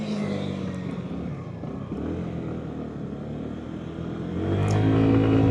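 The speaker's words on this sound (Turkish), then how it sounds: "Gerçekten güzel kıvrak bir motor arkadaşlar." A Yuki Vampire 125cc motorcycle being ridden, its engine droning steadily and close, then swelling louder near the end as it accelerates, with wind noise over the mix.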